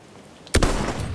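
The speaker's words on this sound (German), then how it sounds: "Ah, das war ein schöner Schuss, oder?" One sharp, loud gunshot crack in the video game Battlefield 1 after a moment of near silence, followed by a rumbling echo that trails off.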